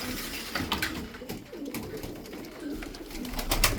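Yozgat tumbler pigeons cooing close by amid rustling and fluttering, with soft repeated coos and scattered clicks over a busy background.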